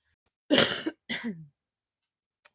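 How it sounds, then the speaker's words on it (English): Two short, dry allergy coughs close up, one after the other, with quiet in between and a faint click at the end. "I got a little bit of a cough going on"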